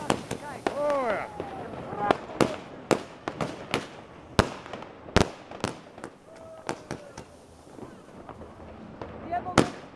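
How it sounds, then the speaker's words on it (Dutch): New Year's Eve fireworks bursting overhead in a Dutch neighbourhood, a rapid irregular string of sharp cracks and booms, some near and loud, others farther off, with rising whistles and people chatting throughout. "het vuurwerk onvoorstelbaar, zo mooi"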